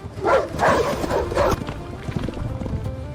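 A dog barks in a quick series of loud, close barks while running, with footfalls pattering underneath that fade into faster steps.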